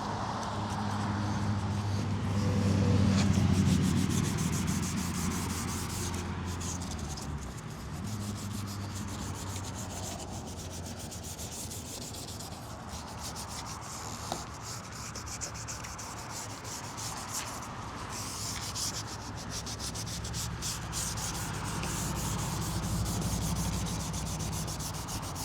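The oxidized headlight of a 2018 Lincoln MKC is sanded by hand with steady, rhythmic rubbing strokes. The scratchy friction continues at close range with a low background rumble and no talking.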